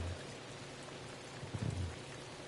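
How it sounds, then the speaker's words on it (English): Rain falls steadily in a video game, a soft continuous hiss of drops on surfaces with a faint low rumble partway through. "It's raining again."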